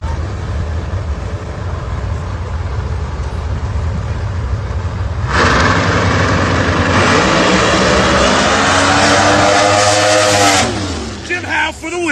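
A no-prep drag race car at Maple Grove spools its turbo with a steady droning roar, then launches into a much louder, rising engine blast that fades after several seconds, with the track announcer talking over it.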